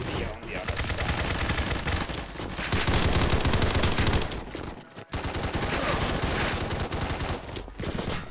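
Rapid, sustained automatic gunfire from a shooter video game, dense and loud, with a short break about midway before the firing resumes.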